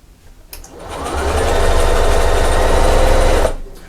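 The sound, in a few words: sewing machine stitching a back stitch on quilt fabric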